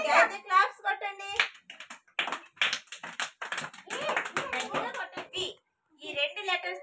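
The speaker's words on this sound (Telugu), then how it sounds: "ఓకే, అయితే క్లాప్స్ కొట్టండి" Young children at an Anganwadi preschool clap together in a quick, dense patter lasting a few seconds, with children's voices heard just before and after the clapping.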